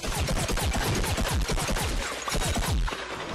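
Rapid pea shooter fire in the video game Plants vs. Zombies: Garden Warfare, a dense, loud stream of punchy popping shots in quick succession with brief gaps, filling the whole stretch with no talk.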